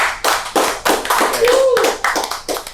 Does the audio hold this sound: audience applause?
yes